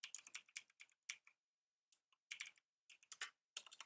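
Fingers type in quick bursts on a computer keyboard, clustered clicks separated by short pauses, close and fairly quiet, with no talking.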